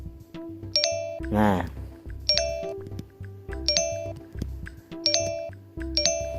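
A braille keyboard app on a phone sounds bright electronic ding tones after screen calibration, repeating about every second with short tapping between them, close and clear, as a voice speaks briefly near the start.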